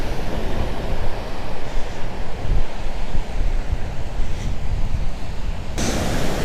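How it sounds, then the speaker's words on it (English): Strong wind roars across a beach while surf rushes in the background. The noise is loud, continuous and gusty, buffeting the microphone from start to finish, and no voices are heard. "Holy friggin' wind."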